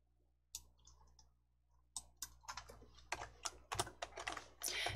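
Rapid computer mouse clicks and keyboard taps in a quiet room, sparse at first then a dense flurry of sharp, close clicks near the end.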